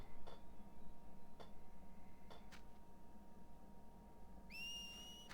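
In the video game Final Fantasy X-2, a short two-note whistle rises faintly near the end, over a soft pulsing game ambience with a few faint clicks.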